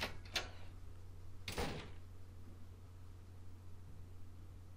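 A door in the video game Mogeko Castle opens with two short, sharp sliding or creaking bursts, the second and longer one coming after a brief pause. Quiet background hum follows, with no speech.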